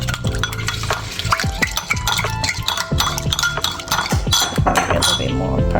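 A spoon clinks and scrapes rhythmically against a bowl while garlic powder, onion powder and paprika are stirred together into a sauce for oven-baked lobster tail, with steady close tapping and no talking.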